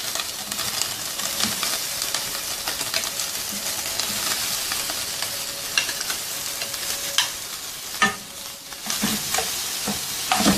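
Mashed potatoes for samosa filling are stirred and fried in a pan, with a continuous sizzle and hiss and scraping stir strokes close by, plus a few sharper clacks near the end.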